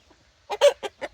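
A fluffy backyard rooster gives four short clucking calls close by, one near-continuous burst after another over about a second, with no talk.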